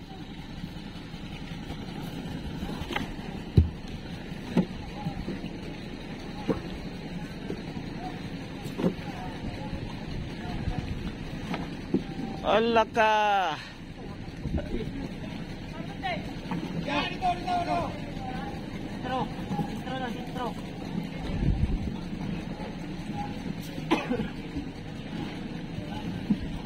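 A large wooden outrigger fishing boat motoring at sea off Placer, Surigao del Norte, a steady engine drone with wind buffeting the microphone throughout, and a voice speaking briefly over it.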